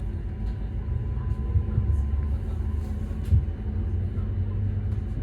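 A Northern service to Manchester Piccadilly departs Hills Green, heard from on board as a low, steady rumble with a few soft clunks and bumps rising briefly above it.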